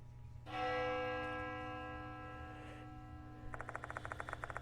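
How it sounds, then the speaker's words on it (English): A school clock tower bell rings loudly in the Death Mark horror game, one sustained ringing tone that slowly decays and then gives way to a rapid, repeated chiming pattern. "The sound of a bell rings loudly in my ears. It must be coming from the school's clock tower."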